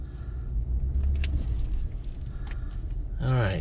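Ford F150 4x4 truck idling and creeping in reverse, a steady low engine rumble throughout with brief clicks, and a short voice near the end.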